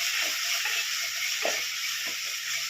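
Ginger garlic paste sautéing in a pan on a low flame for chicken thokku, giving a steady, soft sizzling hiss with a few faint stirring taps and no voices.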